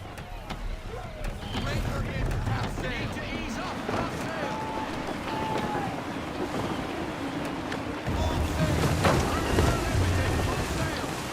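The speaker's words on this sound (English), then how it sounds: "Gusty winds can be difficult to manage." A wooden sailing ship in gusty wind at sea in Assassin's Creed III: strong buffeting wind and rushing water with creaking hull, while voices talk over it and game music plays.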